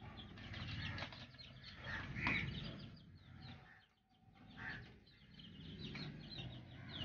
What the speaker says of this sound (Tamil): இது முழுக்க முழுக்க நாட்டுக்கோழி மட்டும்தான் வளர்த்துட்டு இருக்கேன் இது வரைக்கும்.